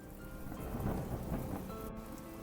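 A thunderstorm in the video game Strange Tales from Longchun, with a deep rolling thunder rumble over a steady wash of heavy rain pouring down.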